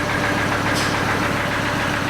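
A secondhand Volvo engine idling with a steady mechanical knock, the rapid rhythmic tapping running continuously under a loud rumble, close up and with no voices.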